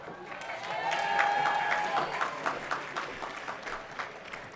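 An audience claps at a university commencement ceremony, a broad wash of applause that peaks early and then thins into scattered individual claps, with a voice speaking over the start.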